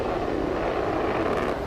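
A Harrier jet aircraft drones with a steady, broad engine roar that fills the whole stretch without a break.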